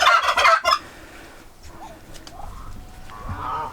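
Farm turkeys let out a short, loud burst of gobbling up close, followed by quieter scattered fowl calls and faint background noise.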